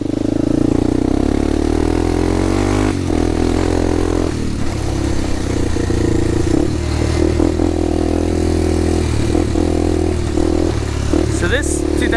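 Honda 400EX ATV engine running close by with a steady loud drone and occasional rev changes, with voices talking over it.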